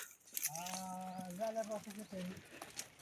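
A goat gives a single drawn-out, wavering bleat, faint and somewhat distant, with soft background noise around it.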